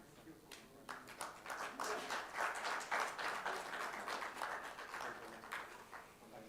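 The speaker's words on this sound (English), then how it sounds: "Let's give him a big round of applause." A crowd at a World Blood Donor Day ceremony honouring blood donors claps steadily for several seconds, a moderate scattered applause heard at some distance, rising and then tapering off.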